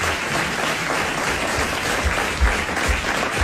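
Sustained studio audience applause on a French radio comedy panel show broadcast in 1990, a dense, even clapping that fills the whole stretch with a few louder claps near the end.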